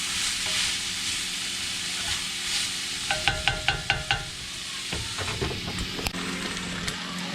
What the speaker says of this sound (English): these veggies are cooking down very nicely